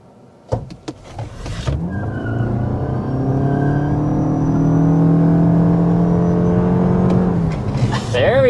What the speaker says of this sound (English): you turn the traction control off, it does, squeal the tires just a little bit, even with the performance tires